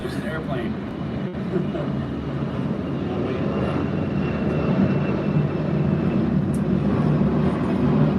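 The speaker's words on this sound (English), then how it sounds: "there's an airplane." An airplane flies overhead, producing a steady, broad engine drone that grows slightly louder and fuller toward the end.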